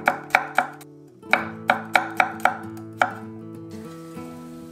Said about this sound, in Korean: 그리고 마늘 4톨 정도 썰어주시고